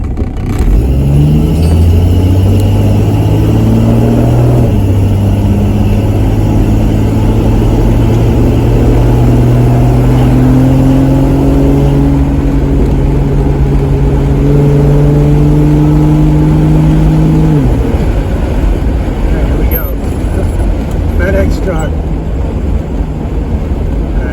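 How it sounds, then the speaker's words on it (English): A 1966 Dodge Dart GT's engine drones loudly and steadily, its pitch climbing through gears, then dropping sharply as the car brakes hard to an abrupt panic stop. "I'll try to do a panic stop or a quick stop in a little bit."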